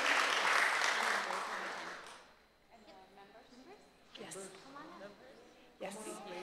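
Audience applause at a Guam senate resolution presentation, a dense loud burst of clapping that fades after about two seconds, giving way to a person speaking over the room.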